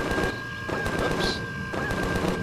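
Rapid gunfire in the space survival game Empyrion Galactic Survival, bursts of sharp shots in short clusters separated by brief pauses, fairly close and loud, with no talking.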